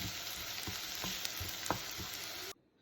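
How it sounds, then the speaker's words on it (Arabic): Chopped green peppers and onion sizzle in a pan for an Egyptian omelette, a steady frying hiss with several spoon scrapes as they are stirred, then cutting off abruptly at the end. "وهنضيف الفلفل على البصل ونقلب."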